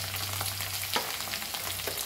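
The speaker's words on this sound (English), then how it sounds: "my oil is hot. I will add this curry leaves. And this onions." Curry leaves and onions crackle in hot oil with a dense, steady close sizzle, broken by a few soft taps of a spoon, and no voices.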